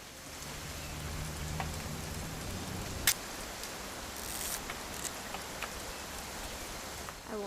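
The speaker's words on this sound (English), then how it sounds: "It's gonna rain the whole weekend" Steady rain falls in a game scene set on a weekend hunting trip, an even soft patter with a few sharper drip-like clicks and a low hum fading early, no voices.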